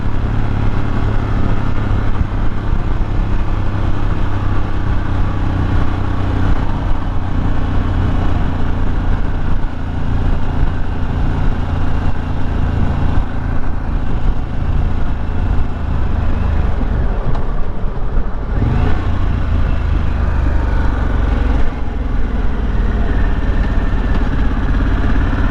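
A 2022 Harley-Davidson Pan America Special motorcycle under way, its engine a loud, continuous drone with a steady low rumble throughout, no voice heard.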